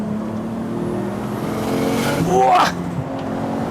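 A Nissan Skyline GTT engine revs hard while driving, its tone climbing and swelling into a loud high-rpm peak before easing back, with a person exclaiming over the top.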